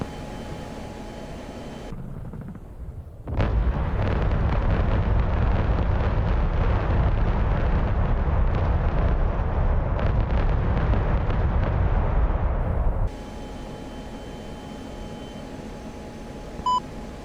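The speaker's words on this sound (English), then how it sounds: "Our wingman's bombs." Wingman's bombs exploding in DCS, an F-16 night strike on a Russian convoy: a loud, sustained rumbling roar of blasts lasting several seconds between quieter cockpit hum and faint beeps.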